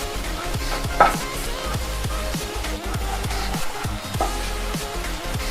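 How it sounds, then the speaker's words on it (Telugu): Onions frying in a pan with curry leaves for a bitter gourd (kakarakaya) pulusu: a steady sizzle with a rhythmic series of soft scraping stirs close by, and no speech. "ఉల్లిపాయ బాగా వేగనివ్వాలి"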